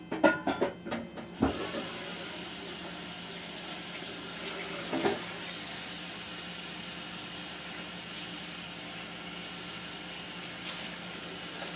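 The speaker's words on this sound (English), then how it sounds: "Bowl rinsed out." A bowl rinsed under a running kitchen tap, a steady close hiss of flowing water with a few clinks and splashes at the start.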